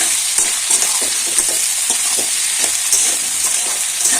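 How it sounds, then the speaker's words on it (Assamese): Continuous loud sizzling of ginger and garlic frying in a hot pan, with faint rhythmic stirring scrapes running underneath. "মই ভালকৈ ভাজি ল'ম"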